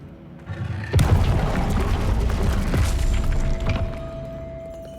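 Casting the Incendio fire spell in Hogwarts Legacy brings a sudden whoosh and burst after a quiet second, then a dense, roaring crackle of flames sustained for several seconds before easing.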